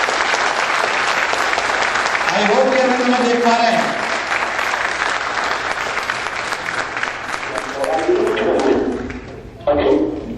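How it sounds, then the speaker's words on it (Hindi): An audience at the Aam Aadmi Party USA Convention 2013 claps steadily in a long round of applause, with someone talking over the microphone during the clapping. "एक बार जोरदार तालियों से अरविंद का स्वागत कर लीजिए"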